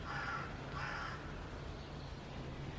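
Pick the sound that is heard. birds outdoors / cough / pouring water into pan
birds outdoors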